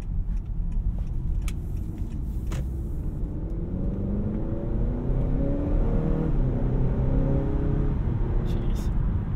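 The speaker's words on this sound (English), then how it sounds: "It just goes. No hesitation at all." A Honda Accord 2.0T Sport accelerating, its engine and road rumble building steadily inside the cabin in a continuous loud drone, with no talk over it.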